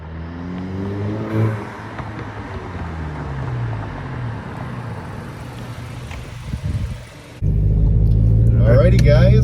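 A Volkswagen MK7 GTI with an APR carbon fiber intake passes by, its engine rumble rising and falling over roughly seven seconds before a louder, steady close engine drone takes over.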